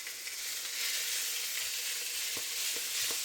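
Chicken sizzles in hot oil in a skillet, a steady loud hiss with a few soft clicks and taps near the end.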